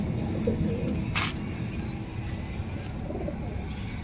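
Pigeons in a loft of broad-feathered birds kept for sale coo in a low, steady murmur that runs throughout, with one brief brighter flutter near the start and no voices.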